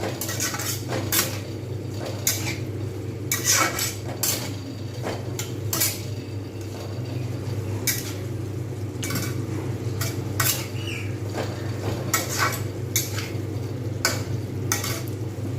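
A pan of bottle gourd kofta curry with tomatoes, potato and green chilli is stirred over raised heat, a spoon scraping and clinking repeatedly against the pan above a steady bubbling sizzle, with no talking.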